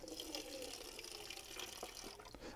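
Water runs steadily into a watering container being filled for gentle watering of lettuce seedlings, a continuous close hiss and gush with no talking.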